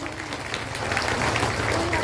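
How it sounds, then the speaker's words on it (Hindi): Audience applause for Tallwine Life at a business meeting, a dense, steady wash of clapping from a crowd that stays loud throughout, with voices mixed underneath. "तो टॉलबिल लाइफ के लिए जोरदार तालियां भाई।"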